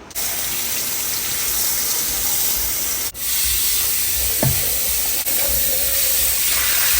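A blender runs with water and liquid soap inside to clean it, a loud, constant, hissing whir that holds steady throughout with only a couple of brief dips.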